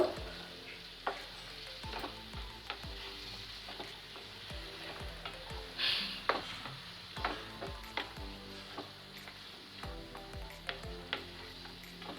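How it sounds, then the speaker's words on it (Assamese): Mutton pieces with spices are stirred in a sizzling pan for mutton rogan josh, with irregular scrapes and knocks of the spoon over a steady frying hiss, close by and without talking. "এতিয়া মছলাখিনি মাংসখিনিৰ লগত ভালকৈ মিলাই দিব লাগিব"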